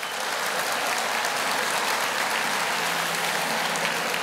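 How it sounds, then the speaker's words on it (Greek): Crowd applause at a Greek pre-election campaign rally for Kostis Hatzidakis, a steady, dense wash of clapping from a large indoor audience, sustained evenly without talk. "Πάμε για ακόμα ένα χειροκρότημα."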